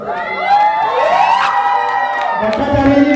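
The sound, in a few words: crowd applauding and cheering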